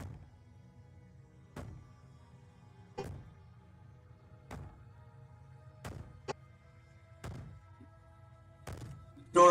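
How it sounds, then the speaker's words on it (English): Princess in the video game Slay the Princess banging from within, a series of dull, evenly spaced thuds roughly every one and a half seconds over a low droning hum, ending in a louder burst; no wailing stands out. "Maybe the banging and wailing will stop if you just don't pay attention to it."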